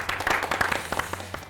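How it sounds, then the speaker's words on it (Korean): Studio audience giving a brief burst of encouraging applause on a Korean health show, scattered claps that stay fairly light and short-lived. "그런 바람을 담아서 우리 응원의 박수 한번 보내드릴까요?"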